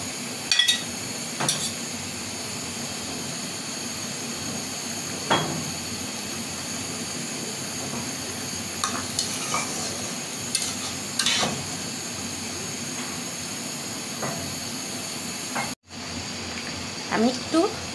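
Fried fish and eggplant go into a simmering curry, giving a steady bubbling sizzle with scattered clinks and stirring knocks from a pot, while a voice talks intermittently throughout.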